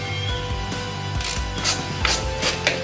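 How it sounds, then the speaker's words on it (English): A Torx number 4 wrench loosens the bolts on a motorcycle luggage rack that holds a top case, giving close mechanical clicks and ratcheting scrapes over a constant background hum. "this one takes a Torx wrench number 4."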